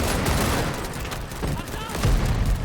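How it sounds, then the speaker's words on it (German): Mobile machine gun firing in the WW1 video game Over The Top, a dense continuous fusillade of gunfire and battlefield noise with a heavier burst near the end, mixed with chatter. "der hat einfach so ein mobiles Maschinengewehr aufgebaut"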